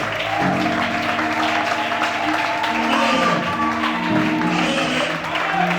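A church congregation applauds and cheers during a worship service, a dense, continuous wash of clapping with tonal voices or music running underneath, loud and close throughout.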